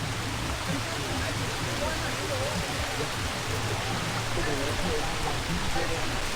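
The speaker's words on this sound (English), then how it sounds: "So I'm trying to wait out the rain." Rain falling on the San Marcos River while kayaking and tubing, a dense steady hiss of drops on water and surfaces at constant loudness, without talking.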